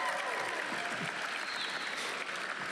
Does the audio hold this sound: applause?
yes